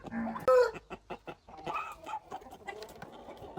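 A Nellore Aseel cross-breed hen, a breeding bird, clucks in a run of short, close clucks, with a few sharper calls standing out and quiet talk in the background.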